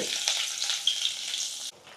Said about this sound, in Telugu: సో పచ్చిమిర్చి కూడా వేగిపోయినాయి, అల్లం కూడా